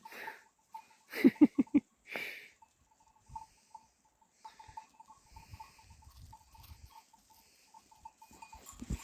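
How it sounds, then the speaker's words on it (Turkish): A shepherd's flock of sheep out at pasture in rural Turkey, with a quick burst of several bleats early on, then scattered softer calls and shuffling over low background noise. "koyunlar"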